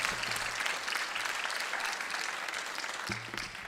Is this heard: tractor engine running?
no